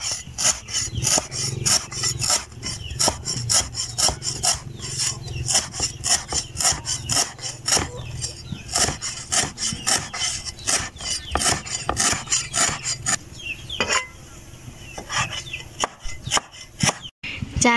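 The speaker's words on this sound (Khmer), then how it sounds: "ឥឡូវនេះយើងចាប់ផ្ដើមហាន់ស្លឹកគ្រៃរួចអស់ហើយ" Lemongrass is chopped finely with a knife on a wooden board in rapid, steady strokes, each a crisp close thud. A brief pause comes near the end, with no talk.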